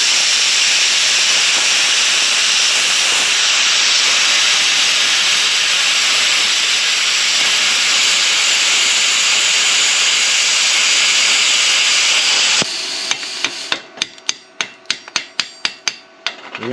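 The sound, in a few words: Arccaptain CUT55 plasma cutter cutting 3/8 thick steel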